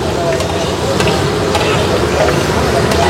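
Tempeh mendoan sizzles and crackles in hot frying oil, a dense, steady, close hiss that holds without a break.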